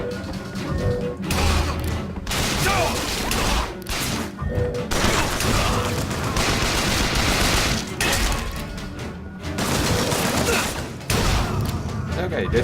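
Rapid bursts of carbine-style gunfire ring out in the BioShock Infinite video game, loud volleys broken by short pauses, with crashes and mechanical clatter mixed in.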